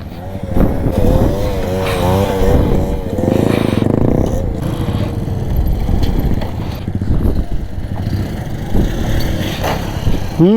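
A Bajaj CT 100 motorcycle engine revving during wheelie practice, loud and close with rising and falling throttle, while people talk and shout over it.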